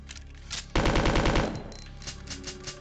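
Rapid automatic gunfire from the Resident Evil 2 video game, a loud burst of evenly spaced shots lasting under a second, preceded and followed by quieter game sounds and no talk.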